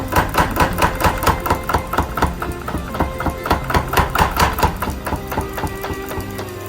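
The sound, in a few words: Little Giant power hammer running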